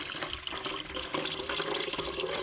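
Tap water runs steadily over paneer being washed in a kitchen sink, a continuous close splashing and gurgling stream with no voices.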